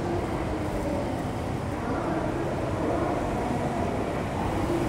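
A 261 series limited express Soya train bound for Wakkanai pulls into a station platform, a steady low rumble and wheel noise that stays loud and even throughout, with talk heard over it.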